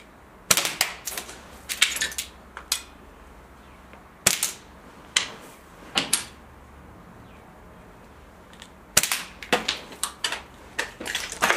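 A slingshot fires steel balls in short sharp cracks and impacts, some single and some in quick clusters, with quiet pauses between shots in a fairly still room.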